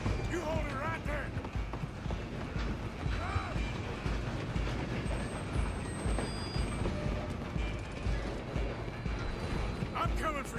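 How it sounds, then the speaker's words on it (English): A train rumbles and clatters steadily in the Red Dead Redemption 2 video game, with continuous rolling wheel noise, metallic squeals and some hoof-like clopping throughout. "I'm gonna ride ahead and stop the train"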